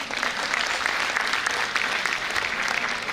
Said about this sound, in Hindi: आप सभी जोरदार तालियों से